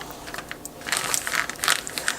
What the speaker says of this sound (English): Fold the plastic over the chicken.